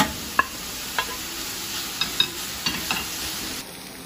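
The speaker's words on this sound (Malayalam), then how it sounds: "നമുക്കിതിലോട്ട് ഈ ഉള്ളി ഇട്ടു. നമുക്കിതിലോട്ട് ഈ പച്ചമുളകും വേപ്പില ഇഞ്ചിയും വെളുത്തുള്ളിയും എല്ലാം ഇട്ട് കൊടുക്കും" Onion, green chili, curry leaves, ginger and garlic fry in hot oil for masala dosa filling. The oil sizzles steadily, and a spoon taps and scrapes the pan in several sharp knocks, close up with no talking.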